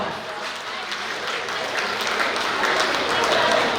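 Steady audience applause for honored guests at a gathering, a dense, even wash of many hands clapping that swells slightly toward the end.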